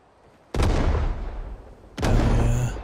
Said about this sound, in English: The shotgun's sweet, man.